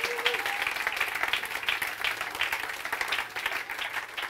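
A church congregation claps together in sustained, dense applause that holds steady throughout, with faint voices mixed in.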